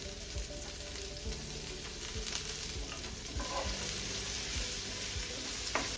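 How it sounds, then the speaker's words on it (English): Onions seasoned with salt and pepper sizzle and caramelize in a hot pan. A steady close frying hiss runs throughout, with soft periodic scrapes from stirring. "our onions are doing so good. They are starting to caramelize."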